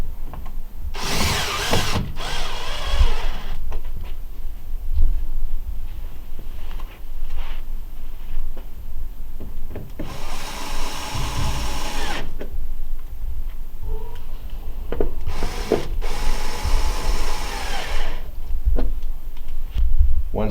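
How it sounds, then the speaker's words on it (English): A power driver sets Phillips head screws into the air filter cover of an Ultra-Aire 90H dehumidifier in three loud whirring bursts, each a second or two long, with quieter handling clatter between them. "go ahead and install the Phillips head screws down in the bottom portion."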